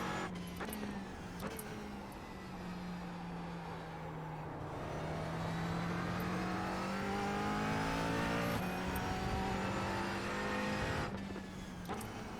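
McLaren 570S GT4 race car engine in the iRacing sim, a steady droning note that climbs and dips with gear changes, loud and continuous throughout with no talk.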